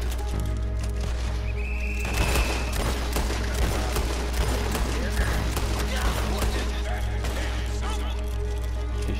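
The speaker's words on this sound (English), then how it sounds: "You're shooting all crazy." Rapid gunfire in Red Dead Redemption 2, a dense run of loud sharp shots fired in quick bursts over several seconds, heard close with game ambience and talk mixed in.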